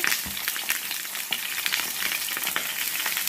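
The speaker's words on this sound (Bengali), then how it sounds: "তাহলে তো এটা পাল্টা করে ভেজে নেব।" Eggplant and tomato frying in a pan, a steady close sizzle with crackling spits throughout, no talking.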